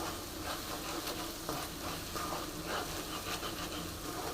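Spice masala for misal roasts in oil in a pan while being stirred, making a continuous soft sizzle broken by rhythmic scraping strokes of the spoon.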